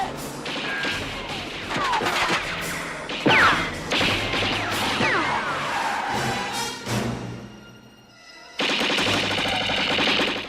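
Gunfire from the terrorist ambush in a Twin Pines Mall parking lot scene, rapid automatic shots mixed with crashes, engine noise and film sound, dense and continuous with a brief dip near the end.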